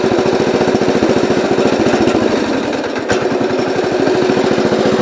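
A 1970 Gravely 408 tractor engine runs in a fast, steady, chugging put-put near the listener and never rises into higher revs, staying loud and even throughout.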